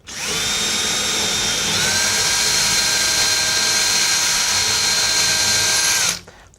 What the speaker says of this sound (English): we're going to drill out our pilot holes in the door.